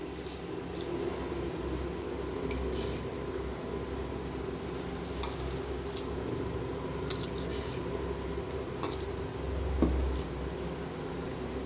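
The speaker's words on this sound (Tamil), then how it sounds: "இப்போ அரிசியை சேர்த்தாச்சு." Drained, soaked rice is tipped into a pot of mutton biryani, giving a wet, squishy rustle over a steady background hiss with a small splash near the end.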